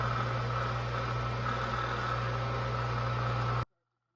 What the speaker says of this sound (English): So that's the sound of the water pump running